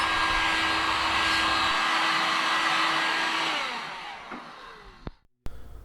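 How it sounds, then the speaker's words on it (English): A heat gun warms a plastic windscreen for a DR650 motorcycle, blowing with a steady loud whooshing hum that winds down and fades out near the end, followed by a couple of sharp clicks. "run over it with the heat gun, just lightly, just to warm it up a little bit, take the stress out of the plastic"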